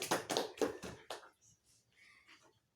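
About five sharp claps in a classroom ring out clearly in quick succession, then fade into a few scattered, softer claps as the applause for a student dies away.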